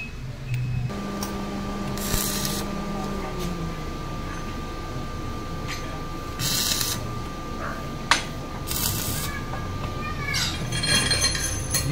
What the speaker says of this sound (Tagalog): Okay, welding na natin to.